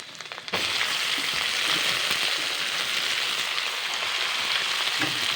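Home-dried fish hits a hot pan and a loud, even hiss of frying surges in after a brief quieter moment, then holds steady and close for several seconds with no talking.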